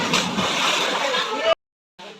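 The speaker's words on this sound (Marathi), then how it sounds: "हे सात झरे एकत्र होऊन इथे गाईच्या मुखातून त्या तळावर सोडले पाणी" Steady splashing spring water pours from a cow-head spout into a temple pond and sloshes for about a second and a half, then stops briefly before resuming more faintly.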